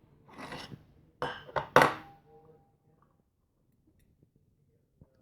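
A spoon scrapes and taps pepper seeds into a bowl, a few quick clinks and scrapes close by in the first two seconds, then near silence with a couple of faint ticks.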